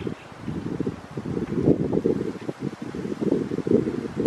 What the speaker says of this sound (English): You might hear some wind blowing around now through the speaker.